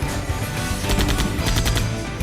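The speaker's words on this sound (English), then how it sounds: "held the gun up to his forehead, and then, bang!" Gunfire from the Runaway 3 adventure video game: a loud, rapid burst of shots crackling over a dense layer of game music, with no speech.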